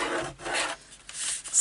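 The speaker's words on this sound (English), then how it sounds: "just make sure you give it a really good burnish" Firm rubbing strokes burnish cardstock pressed over a double-sided box die, two or three steady scraping passes, close and fairly loud, with no talking.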